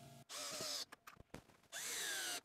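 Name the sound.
power drill driving screws into workbench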